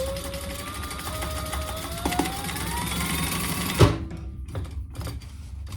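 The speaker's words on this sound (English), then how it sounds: "And then we'll just sew all 4 of those closed." A sewing machine closes the open seams of a fabric pouch in a steady run that stops near the end. A couple of light knocks and handling sounds follow in the quiet.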